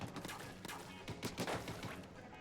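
Quick bursts of rapid shots from Glooga Dualies, twin ink pistols in Splatoon, crackle in short irregular volleys, fairly close with a muffled, punchy character.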